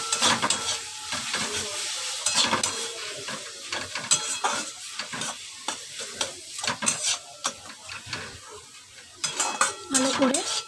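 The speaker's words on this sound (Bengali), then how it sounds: "দিয়ে এবার মশলাটা ভালো করে কষিয়ে নেব" Masala sautéing in a pan, a sizzle under frequent loud metal spatula scrapes and clanks against the pan, irregular and close, with faint voices in places.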